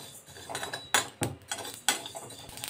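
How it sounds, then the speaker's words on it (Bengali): Mustard seeds and whole spices being stirred in a metal pan while dry-roasted for a sour-hot chili pickle: a metal utensil scrapes and clinks against the pan in several sharp, close strikes over a soft sizzle. "এবার এটাকে একটু আমি নেড়ে, খুব বেশি ভাজবো না"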